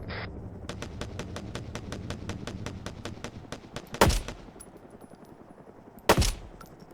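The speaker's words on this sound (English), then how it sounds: "Permission to fire on the enemy." Rapid machine-gun bursts in a military simulation game: a long rhythmic string of sharp shots at an even pace, followed by two loud separate blasts, with no talking.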